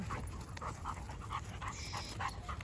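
A Doberman panting during laser-pointer training, soft rapid breaths in a quick repeating rhythm, close by and fairly faint against a low background hum.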